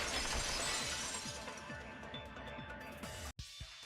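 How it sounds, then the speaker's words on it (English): A breaking vase sounds as a shattering sound effect in a mystery anime: a bright burst of glass-like crashing debris that tails off over a few seconds before a brief cutoff. "If it wasn't the window, then what broke to make that sound? A vase."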